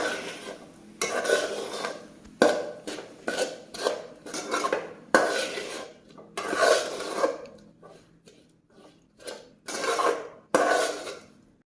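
Chicken pieces being sautéed in a pan for homemade chicken egg rolls, with repeated scraping and clattering bursts of a utensil against the pan in an irregular rhythm, close and fairly loud, no talking.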